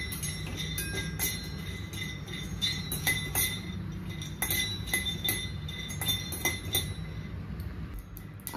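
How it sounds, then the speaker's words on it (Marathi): Peanuts dry-roasting without oil in a kadai for Maharashtrian kanda poha, giving steady close clinking and rattling as they are stirred and tossed against the pan, with a continuous low background hum. "हे तेल न टाकताच मी शेंगदाणे भाजून घेते"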